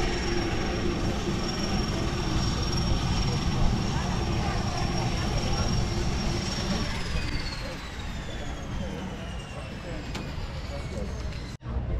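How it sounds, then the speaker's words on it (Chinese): A seaplane at CocoCay passes overhead as a continuous droning engine roar that gradually fades and shifts in pitch, with a voice talking over it outdoors. "有水上飞机飞来这边"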